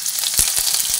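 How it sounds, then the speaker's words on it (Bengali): Cardamom, cinnamon and cloves fry in a pan with a steady, close hiss and crackle, broken by a few soft stirring knocks. "এলাচ, দারচিনি, লবঙ্গ সবই দিয়ে দিলাম। অল্প করে ভেজে নিচ্ছি।"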